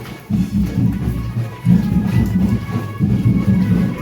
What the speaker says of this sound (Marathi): आणि पाऊस पण एवढा आहे ना